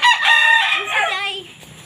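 A native chicken crows loud and close in one drawn-out call that falls off at the end, with no voices over it.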